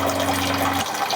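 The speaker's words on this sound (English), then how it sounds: "Out of the hot water tank. It is pouring out." Water gushes from a half-inch hole in a hot water tank, a steady loud rushing pour with a low hum underneath that cuts out partway through while the flow continues.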